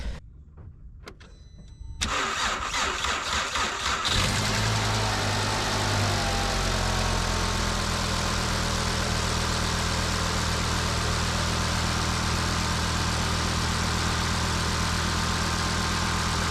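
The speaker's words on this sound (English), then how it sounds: "Let's start it up, see if the air pump works." A car engine starts after a brief crank during a secondary air injection pump test, then settles into a loud, steady idle with a continuous whirring hum from the running air pump; no voices.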